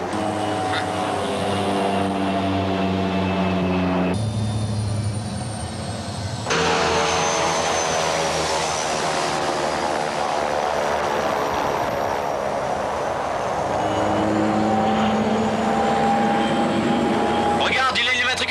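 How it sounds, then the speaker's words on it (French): Mirage fighter jets take off with a loud, sustained engine roar and shifting whine that rises and changes pitch as they accelerate, while voices speak over the noise. "On fait décoller les mirages."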